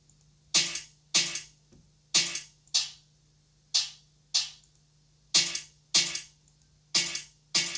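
A jungle breakbeat drum loop with two layered snares, one a garage-style ghost snare, gives sharp, bright, evenly recurring hits with quick decays and a faint steady low hum underneath.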